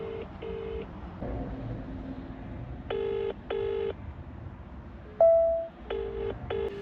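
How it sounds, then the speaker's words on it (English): A telephone rings in repeated double bursts with pauses between, over a low background hum, and a short beep sounds once partway through. "Now I've got the office ringing me"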